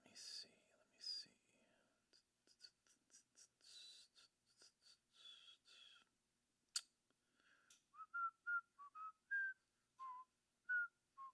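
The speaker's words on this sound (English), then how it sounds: "I don't know if I'm allowed to whistle that" A person whistles a tune of short, clear melodic phrases, breathy at first and then a run of distinct separate notes, close and fairly quiet, with soft clicks and rustles between.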